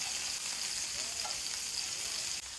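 Meatballs fry in hot oil in a pan, giving a steady, close, even sizzle that holds for a couple of seconds.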